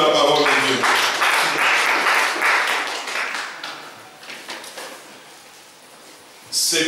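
A church congregation breaks into loud, sustained applause with dense clapping that gradually thins and fades over several seconds, followed by a sudden short burst of noise at the end.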